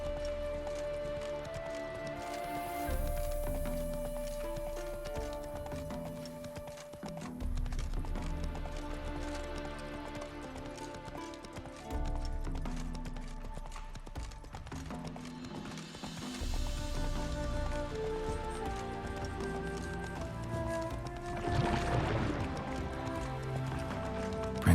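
Roach, a horse in The Witcher 3, gallops with steady rhythmic hoof clip-clops and occasional whinnies, heard under a loud game music score with no talk.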